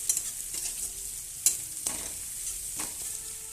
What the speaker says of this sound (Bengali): তো তেল গরম ছিল, আমি পেঁয়াজটা দিয়ে দিলাম।